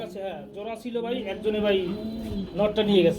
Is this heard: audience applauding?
no